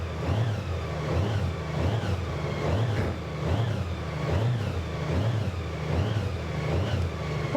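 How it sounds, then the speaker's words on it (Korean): A 2019 Honda Gold Wing DCT motorcycle engine idles smooth and steady, with a low, even rumble and a gentle rhythmic pulse. It sits close, continuous and alone, with no talk over it. "혼다의 특유의 엔진 사운드를 가지고 있고 아주 정속한 엔진 사운드가 있습니다"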